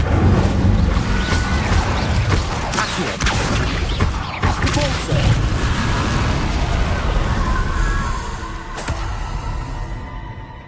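The Incendio fire spell is cast in Hogwarts Legacy, a dense, roaring burst of crackling magical fire with sharp impacts, loud and sustained across the whole stretch.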